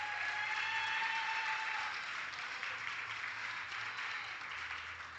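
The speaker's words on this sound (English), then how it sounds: "Give her a big round of applause, Miss Linda McPeters." Audience applause at a regional powerlifting championship in the Cayman Islands, honoring an award presenter, a continuous wash of clapping from a large crowd that holds steady and slightly eases toward the end.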